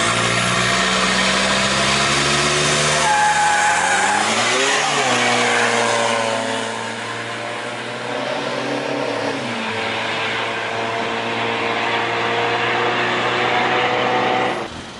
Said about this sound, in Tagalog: Ito yung Hilux nila. Grabe. Sobrang kargado.